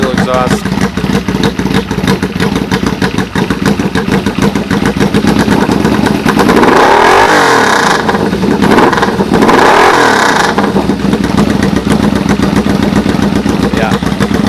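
A 1995 Yamaha VMAX 1200 motorcycle with a UFO dual exhaust, loud and close, idling with a rough, throbbing burble, then revving up twice in quick succession before settling back to idle.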